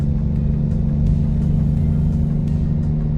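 Truck engine in American Truck Simulator, a loud, steady low rumbling drone holding an even pitch throughout, with no voices over it.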